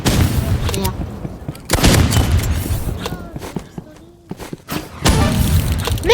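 A grenade bursts amid gunfire in the video game Rivals, with sharp cracking shots and heavy booms crowding a busy, loud firefight, easing briefly before erupting again.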